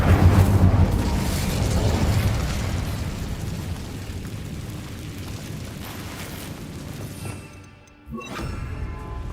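A fire spell bursts in the Hogwarts Legacy video game, a loud roaring whoosh of flame that trails off over several seconds, then a brief drop to near silence before game noise returns.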